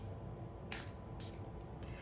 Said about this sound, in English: I'm going to just take a setting spray and spray the brush.